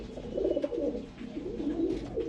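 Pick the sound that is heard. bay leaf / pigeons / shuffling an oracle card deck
pigeons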